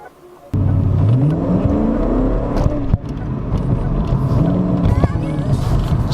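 A Ford Mustang GT fitted with an Airaid MXP Series cold air intake starts off and accelerates, its engine note rising loud and close through the gears, with a brief lull partway through and steady road noise beneath.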